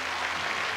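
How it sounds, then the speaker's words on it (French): Spectators in the Hans-Martin Schleyer Halle in Stuttgart applaud a gymnast after his pommel horse routine at the 2003 DTB Cup, a broad, steady wash of clapping from a large arena crowd. "Il est applaudi quand même"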